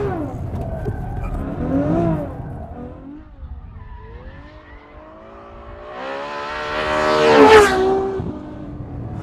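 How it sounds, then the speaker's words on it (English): A Ferrari F12 with a 740-horsepower engine accelerates hard, its tone rising and falling before the revs climb sharply and the tires squeal as the rear oversteers, loud and close. "We give it a little bit of gas. Oh, and it oversteers quite a lot."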